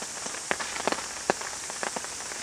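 Rain patters on a tent and tarp at a solo campsite, a soft close hiss broken by scattered sharper drops tapping the fabric.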